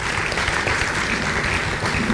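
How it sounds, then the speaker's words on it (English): Loud, dense round of applause from a lecture audience welcoming a speaker, steady continuous clapping filling the hall with no talk on top. "please let's give Nana Asantewa a round of applause as she comes to"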